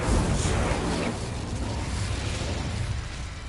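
Fiery Incendio spell blast in the Hogwarts Legacy video game, a loud continuous roaring burst with crackling rumble that starts strong and sustains for a few seconds at steady high level, no talking.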